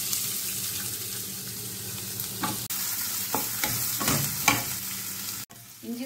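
Ginger for an Onam ginger curry fries in a pan under steady sizzling, with several stirring strokes and a short clatter near the end and no voices.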